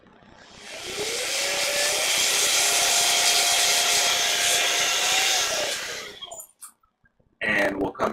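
A steady, loud hiss of compressed air blows debris out of an Apple Watch Series 6 44mm under repair, lasting several seconds at close range before cutting off, followed by brief handling noises.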